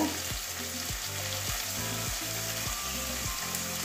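Ginger garlic paste frying in hot oil makes a loud, continuous sizzle, with repeated rhythmic spatula strokes scraping the pan roughly every half second.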